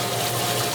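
Steady rushing spray of water from a hose, constant and fairly loud throughout, with no pauses or voices.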